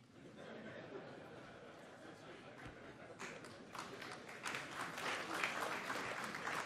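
An audience applauds, clapping building from a faint start to a louder, fuller round toward the end.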